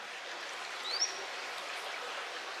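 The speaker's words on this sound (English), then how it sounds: "We got a tiny little stream right here and a mountain right above us." A tiny mountain stream flows steadily with a soft, even broadband rush, and one brief high bird chirp rises above the water near the start.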